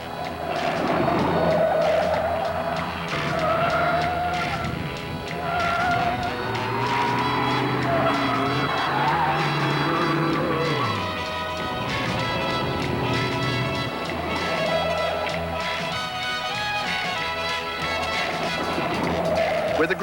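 An AMC Gremlin driven hard during a road test, its engine loud and steady for the whole stretch, with tires squealing and skidding through the corners and a low hum of voices in the background.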